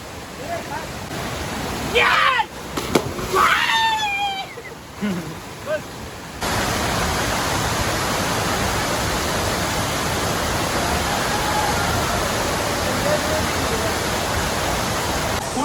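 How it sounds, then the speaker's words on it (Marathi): A few brief voices and chirps, then a loud, steady rushing roar of a crowded hidden waterfall takes over and continues without a break. "हा बघा समोर वॉटरफॉल एक नंबर वॉटरफॉल आहे"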